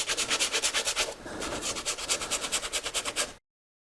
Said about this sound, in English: scrub it down real good